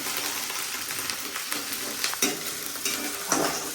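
Garlic fries in a pan for palak paneer, giving a close, steady sizzle with occasional scraping clinks as a utensil stirs it around.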